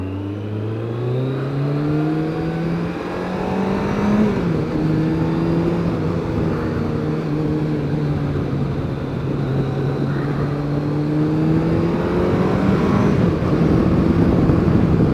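A Kawasaki ZZR 1100 on standard exhausts drones loudly and close, its engine note rising and sliding as the revs change, with a rough, steady exhaust rumble throughout and no talk.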